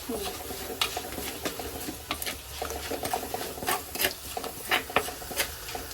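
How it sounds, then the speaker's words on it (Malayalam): Ginger and garlic frying in a pan, with a steady sizzle under repeated stirring and scraping scrapes and clinks of a utensil against the pan, close and moderately loud, no talking. "അപ്പോൾ നമ്മുടെ ഇഞ്ചിയും വെളുത്തുള്ളി ഒന്ന് മൂത്തിട്ടുണ്ട്"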